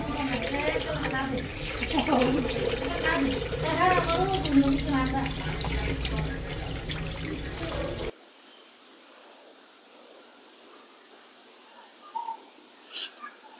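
Water splashes and runs steadily while cut hilsa fish is rinsed clean in a home kitchen, a continuous wash that stops abruptly partway, leaving quiet room tone with a few faint knocks.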